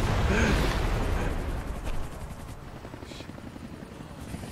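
Helicopter in the video game Max Payne 3, a loud rotor roar with a low thumping pulse that is strongest at the start and then eases to a steadier, fainter drone, with no talk over it.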